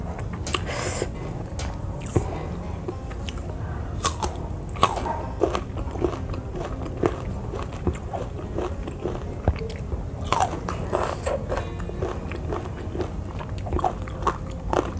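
Close, crisp crunching bites and wet chewing of raw young mango and raw cassava with spicy rujak sauce, repeated snaps and munching in a steady rhythm with faint voice at times.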